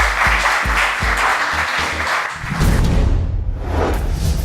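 Studio audience applause for two chefs on a cooking competition show, a dense wash of clapping over musical thumps and a whoosh, loud and steady.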